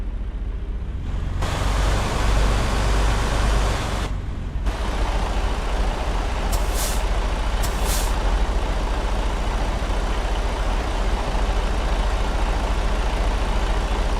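A Freightliner truck in American Truck Simulator backs in slowly, its low diesel engine rumbling steadily beneath a couple of brief high hissing bursts from the air brakes, with no talking.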